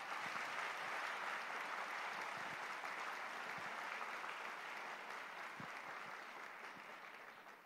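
Audience applause fills a debate-competition final hall in Malaysia as a distinguished guest is honoured, a broad sustained clapping that holds steady and slowly fades toward the end, with no voices over it.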